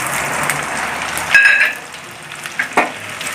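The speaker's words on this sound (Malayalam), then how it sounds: "അപ്പോൾ നമ്മുടെ വെളിച്ചെണ്ണ ചൂടായിട്ട് അതിലേക്ക് നമുക്ക് ഇഞ്ചി അരിഞ്ഞ് വെച്ചത് ആദ്യം കൊടുക്കാം" Chopped ginger frying in hot coconut oil sizzles steadily, with a brief high metallic ring and a couple of sharp stirring clacks near the end.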